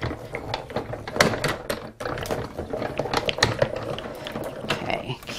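A single quick cut through yellow paper to free a tulip shape for a paper-pieced card. Crisp, close snipping and rustling run throughout, with dense clicky handling noise and some faint background sound.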